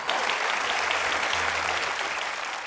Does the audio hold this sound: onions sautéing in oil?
no